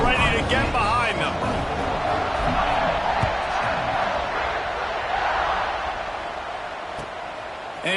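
A football stadium crowd roars before a college kickoff, a dense wash of cheering and shouting under an announcer's commentary.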